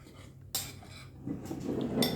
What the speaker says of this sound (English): I'm just stirring it with my spoon.